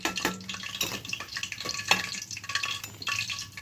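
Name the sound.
lentil vadas dropped one by one into hot water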